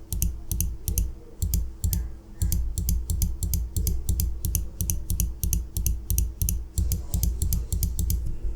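A wireless gaming mouse gives rapid, crisp button and scroll wheel clicks in a steady close-up run of sharp ticks with brief pauses.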